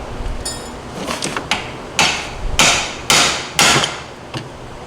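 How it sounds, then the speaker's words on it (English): A hammer strikes the side of the spindle hub on a CFMOTO UFORCE 1000 off-road vehicle during an A-arm kit install: a series of loud, sharp metallic blows, about five of them, roughly half a second apart, with no talk. "What I did there is hit directly here on the side of your actual spindle or hub."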